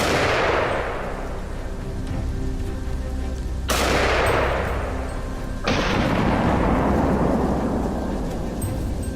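Rifle shots ring out while hunting wild boar in snowy winter country. Two or three loud, sharp blasts each trail off in a long rolling echo, over a steady background rumble.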